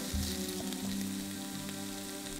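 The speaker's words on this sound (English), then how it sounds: "add a diced onion to the pan and cook for 5 minutes, stirring occasionally until the onion begins to soften" Diced onion sizzles in olive oil in a pan, an early step for a parsnip and sweet potato soup: a steady, soft, close frying hiss with a faint hum underneath.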